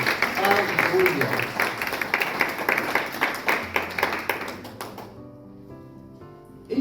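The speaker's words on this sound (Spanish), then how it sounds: "Den un aplauso al que vive para siempre." A church congregation claps in sustained applause for several seconds during a Spanish-language sermon, while the preacher's amplified voice carries over it; the clapping fades out near the end.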